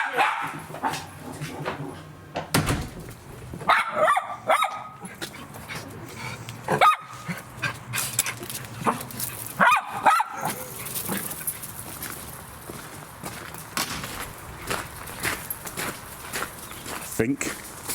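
Two excited pet dogs bark and yip repeatedly at close range, wearing collars and coats before a walk on a dull day, with people talking and footsteps in between.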